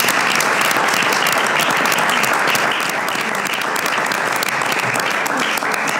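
A large crowd at a basketball evening applauds steadily and loudly, a dense continuous clatter of clapping that holds throughout.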